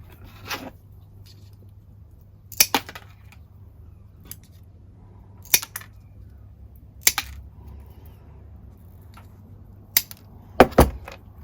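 Mosaic tile nippers snip pieces of ceramic for a picassiette garden gnome brim, a series of sharp, separate clicks spaced a few seconds apart, ending in a quick double snap, with quiet background between.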